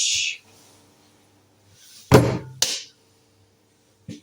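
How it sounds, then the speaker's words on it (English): Several dull hammer blows come from a workshop upstairs: two heavy thuds close together, then a fainter single knock after a pause, muffled and with no talk over them. "something is being hammered"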